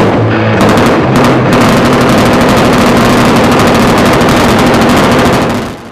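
Rapid bursts of automatic gunfire ring out during a Russian special forces anniversary demonstration with smoke and flags, a loud, dense, continuous rattle of shots lasting several seconds before fading.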